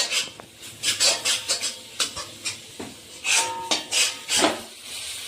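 Masala paste with chili and coriander powder is stirred in a cooking pot for a Kerala-style roasted coconut chicken curry, giving a run of close, rhythmic metallic scrapes and clinks from a spoon against the pot, with no talking.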